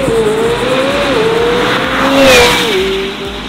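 A McLaren 750S sports car accelerates hard, its loud engine note rising steadily in pitch and swelling toward the end, heard up close with no talking over it.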